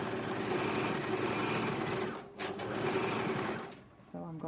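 Rapid, steady whirring of a sewing machine stitching fabric, running fast with a brief pause midway, while a person talks over it.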